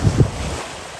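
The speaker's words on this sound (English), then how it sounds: "there's definitely 3 to 4 foot swells rolling into the bay right" Ocean swells of three to four feet roll into a bay during an October nor'easter, heard as a brief, loud wash of surf buried under heavy wind buffeting the microphone.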